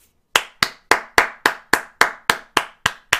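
One person claps hands eleven times in a steady, even rhythm, each clap sharp and close with a short ringing tail, and no talking.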